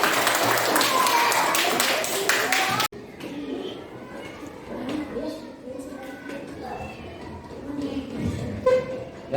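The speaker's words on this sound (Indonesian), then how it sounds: "Tepuk tangan untuk kita semua." A classroom group applauds, a dense burst of hand clapping lasting about three seconds, followed by a quieter room with scattered voices and light taps.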